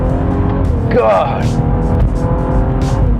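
2014 BMW M135i with a manual gearbox, driven hard in sport mode after a downshift, engine roaring close up under an excited shout, with a quick rising rev sweep.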